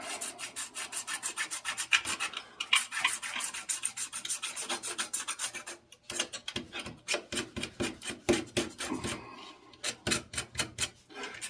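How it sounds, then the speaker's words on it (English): A blade scraped repeatedly down a plastic Atlas model telephone pole to carve wood grain, making quick rhythmic rasping strokes, close and fairly loud, with brief pauses between bursts. "Just do a little scraping down the pole like that."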